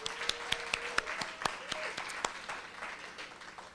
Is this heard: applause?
yes